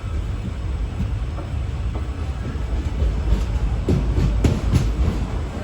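Passenger train on the Mysuru–Chamarajanagar line rolling into platform one at a station under repair, with a steady low rumble of wheels and carriages, rhythmic clicks of rail joints and a few sharp metallic knocks growing louder near the end.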